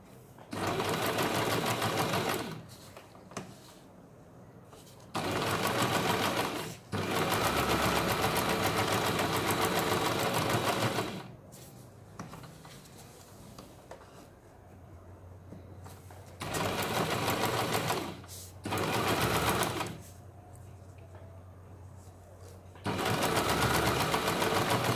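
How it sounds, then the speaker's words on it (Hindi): A sewing machine stitches a patch onto a blouse in several loud, steady bursts of rapid mechanical whirring, separated by short quiet pauses, close up. "अभी यहाँ पे हमें पैच के ऊपर इस तरह से ये सिलाई लगानी है।"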